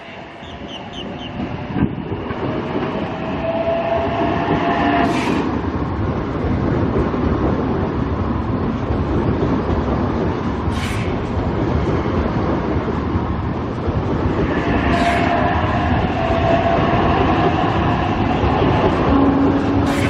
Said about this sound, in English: train going to Kiama